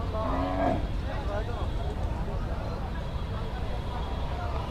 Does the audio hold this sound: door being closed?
no